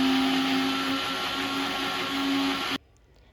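A mixer grinder blending garlic, chillies and green chutney for sandwiches whirs with a loud, steady motor drone, then cuts off abruptly into near silence.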